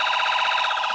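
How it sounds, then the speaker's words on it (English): iHound app alarm blaring from an iPhone, a loud, steady warbling siren that pulses rapidly and evenly without pause. "that is the siren that I set off on the website earlier"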